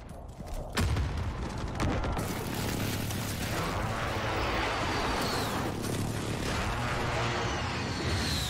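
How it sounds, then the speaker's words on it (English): An allied precision airstrike rolls through a multiplayer shooter match, with a sharp blast near the start and dense booming, rumbling gunfire and explosions continuing loudly throughout. "Allied precision airstrike incoming"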